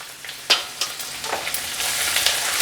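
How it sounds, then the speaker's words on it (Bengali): Grated coconut and grated ginger frying in a pan for ghugni: a continuous sizzle of oil broken by several sharp spoon scrapes and stirring knocks, close and fairly loud, with no voices. "এবার নারকেল কুচিটা দিয়ে একটু ভেজে নেব।"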